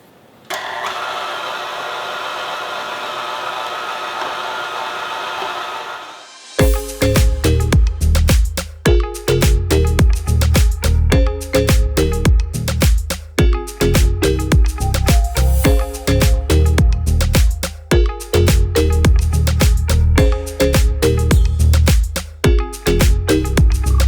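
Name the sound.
meat grinder attachment grinding frozen top sirloin steak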